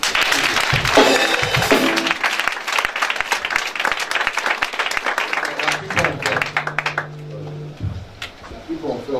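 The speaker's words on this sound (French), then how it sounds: "On peut acclamer." A congregation at a prayer meeting bursts into loud applause and cheering that fades after several seconds, leaving scattered claps and murmured voices.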